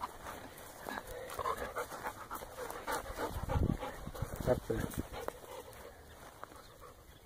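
A dog pants close by during a turkey hunt, with brief whimpering over steady outdoor background noise, while someone speaks briefly.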